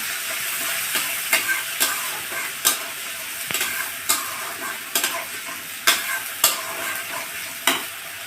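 Spice paste with a splash of water fries in a pan for a Bengali boal fish dish, a loud steady sizzle punctuated by regular sharp scraping strokes as it is stirred.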